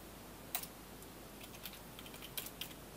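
Quiet keystrokes on a computer keyboard as code is entered, a few scattered taps and short clusters over a faint steady background hiss.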